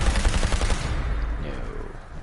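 A zip gun fired in Fallout 4, a single sharp shot with a booming low-end thump up front, decaying while a voice talks underneath.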